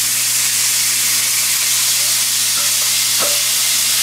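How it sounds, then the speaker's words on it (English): Green beans tossed in a pan with chopped fresh bacon pieces give a steady, loud, close hiss of frying that runs unbroken, with a faint stir or clink near the end and no talking. "I don't know what sounds better, the sound of these green beans or the steak"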